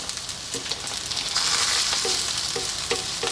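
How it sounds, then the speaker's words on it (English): Beaten eggs frying in a hot pan for egg fried rice, a close steady sizzle that swells midway, with light periodic taps of a utensil and no talking. "I'm going to drop that in there. And what we're going to do is we're going to cook the egg here to how you like it."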